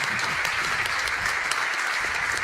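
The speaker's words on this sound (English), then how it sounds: "Godson clapping it up, clapping for himself." A player claps for himself during an esports ceremony, a steady wash of applause filling the short clip at even volume with no clear pauses.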